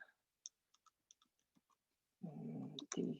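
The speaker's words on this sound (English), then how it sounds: "stop me if it looks like I'm typing anything wrong" Light, sparse key clicks from typing on a computer keyboard come quietly one after another with pauses between them, followed by close talking.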